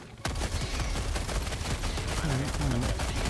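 Rapid automatic gunfire from Helldivers 2, a dense, loud burst that starts abruptly and rattles on continuously, with a voice briefly audible underneath.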